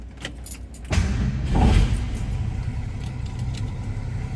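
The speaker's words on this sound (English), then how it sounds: "Let's go ahead and fire this up so you can hear it run." Keys jingle, then a 1968 Ford Mustang Coupe engine cranks and catches, settling into a steady, rumbling idle.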